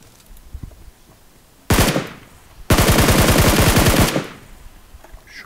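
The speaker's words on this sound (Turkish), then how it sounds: "Diğeri nereden sıkıyor?" Gunfire in PUBG Mobile on the Livik map: a short automatic burst, a pause, then a long loud rapid stream of shots before fading into quiet background.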